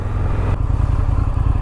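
Engine of an Indian FTR 1200S motorcycle during a ride, a loud, close, steady low rumble with a brief shift in tone partway through and no talk.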